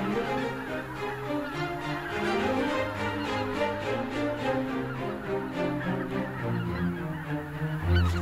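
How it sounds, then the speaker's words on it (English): A large flock of geese honks continuously on flooded meadows in the Biebrza wetlands, a dense overlapping chorus of calls filling the scene without pause. "Geese spend the night on overflow waters, where they feel safe."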